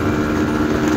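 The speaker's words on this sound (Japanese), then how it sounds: "原付で現地まで行ってます" A moped engine drones steadily and fairly loudly on a ride toward a roughly 500 m local mountain, Mount Miroku, holding an even, unbroken tone throughout with no talking.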